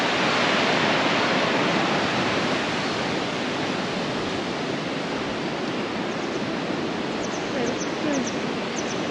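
Broad, steady rush of the River Dee flowing near Balmoral, a continuous loud wash of water with no break across the whole stretch.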